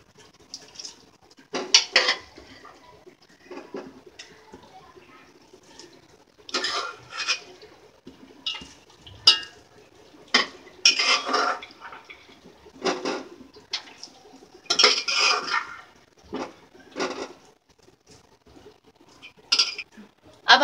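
Keema being mixed with boiled masoor dal in a cooking pot, with repeated scraping and clinking of a spoon against metal in irregular bursts, close and fairly loud, no talking.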